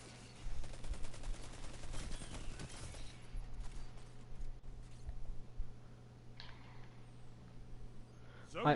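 Auto rifle gunfire in a Destiny 2 match rattles in rapid bursts, with a dense volley early on and scattered shots later. A steady low hum runs underneath, and game voice callouts are heard.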